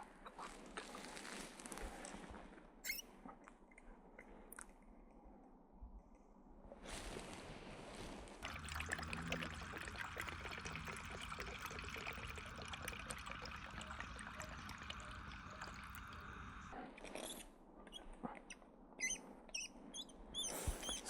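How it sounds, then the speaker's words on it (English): Liquid fuel pouring into the burner of a used Trangia Mini camping stove, a steady trickling stream running for several seconds between quieter handling noises, close and clear. "And then pour your fuel in,"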